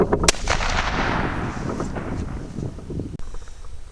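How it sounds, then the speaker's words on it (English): A deer rifle fires outdoors with a sharp crack near the start, followed by a long rolling echo and steady wind noise across the microphone. "so I'm gonna hurry and take some shots."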